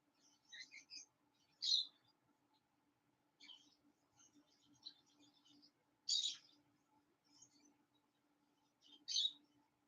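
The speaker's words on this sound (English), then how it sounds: "My birds are being a little on the noisy side today" Small birds chirp and tweet in short bursts every couple of seconds, fairly close, over a faint steady hum in a quiet room.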